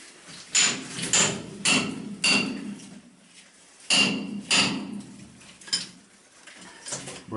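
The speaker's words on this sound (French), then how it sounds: "Tu peux prendre le burin aussi?" Hammer blows on a chisel chip rock while clearing a passage in a cave, sounding as sharp, irregular metallic strikes, about a dozen close and loud with quiet gaps between them.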